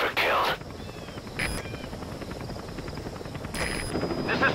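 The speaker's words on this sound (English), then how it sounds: "I'll send the extraction chopper." An extraction helicopter arriving in Metal Gear Solid V: The Phantom Pain makes a steady, loud whirring rotor drone that runs throughout, with brief bursts of higher wind-like noise at the start and near the end.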